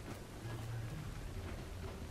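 Rain falls in the game Assassin's Creed Syndicate, a soft, steady patter with low rumbles underneath, fairly quiet and continuous.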